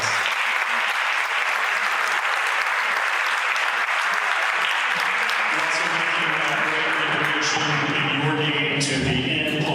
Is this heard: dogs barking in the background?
no